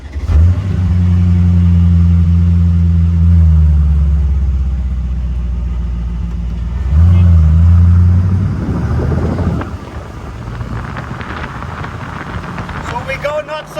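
A Brabus Porsche engine fires up and revs, a loud deep rumble with swelling tones that dips and surges again, heard close with wind noise and a voice talking over the later part.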